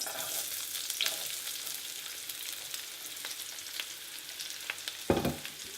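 Onions frying in hot ghee give a soft, steady sizzle with occasional stirring scrapes and a louder clatter near the end, fairly quiet and close.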